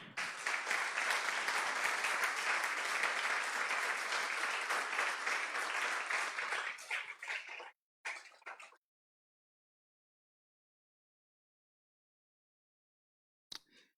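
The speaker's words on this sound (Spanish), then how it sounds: "Un fuerte aplauso al Señor." A church congregation claps loudly and steadily for about seven seconds, then the applause thins out and stops abruptly, leaving near silence broken by one brief faint clap late on.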